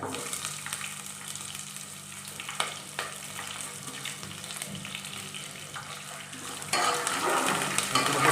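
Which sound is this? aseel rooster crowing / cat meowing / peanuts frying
peanuts frying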